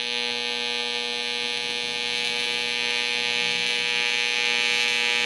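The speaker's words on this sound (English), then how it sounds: "Josh, this machine is stick and TIG, mainly TIG" A TIG welder, on a machine that also runs stick, lays a weld with a steady, loud electrical buzzing hum that holds constant for the whole stretch, with no talking.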